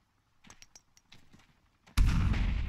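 A sudden loud explosion in the video game ARMA III bursts in after a few quiet clicks and taps, then a roaring rumble sustains to the end.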